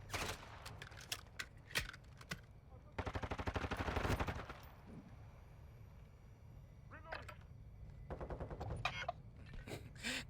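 Bursts of submachine gun fire in Call of Duty Modern Warfare 2, with fast rattling volleys separated by pauses, one long burst in the middle and shorter bursts toward the end, close and loud.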